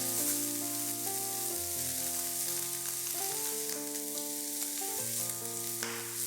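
Mushrooms and other ingredients for pork belly cabbage rice fry steadily in a pan, a continuous soft sizzle sitting under prominent background music.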